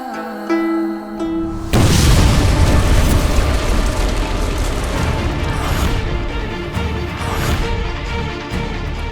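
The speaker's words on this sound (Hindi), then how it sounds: "ये कैसा धमाका था?" A loud explosive blast bursts in near the two-second mark of a fantasy TV drama scene, a sudden booming impact followed by a sustained rumbling roar and debris-like crackle that lingers for several seconds.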